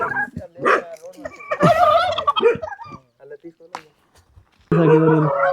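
A farm turkey gobbles in rapid, warbling bursts, followed by a short quiet gap and then a louder, denser burst of calls at close range.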